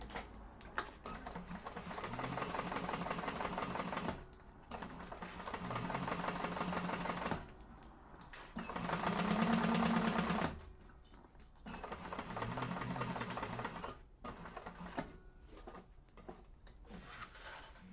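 A sewing machine top-stitches a Yasmota handbag in several long, even runs of rapid stitching that start and stop with short pauses, close and moderately loud.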